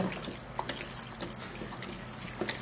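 Water runs steadily and splashes into a blender for a few seconds, a continuous close pouring sound with small drips and splatters.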